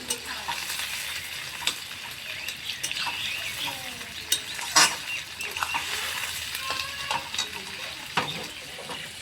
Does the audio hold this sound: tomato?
yes